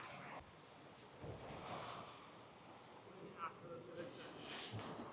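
Gentle surf washes onto a white-sand beach on Koh Phi Phi, Thailand, in a soft, steady hiss mixed with wind buffeting the microphone and faint voices in the distance.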